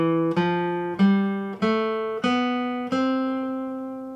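Guitar notes climbing a major scale, each plucked note ringing clearly and decaying before the next, five or so evenly spaced steps played alone.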